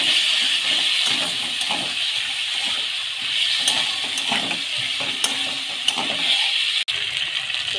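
A paste of ground green chili, garlic and ginger fries in hot oil in a pan for rohu fish kalia, sizzling steadily and close, with occasional stirring clicks.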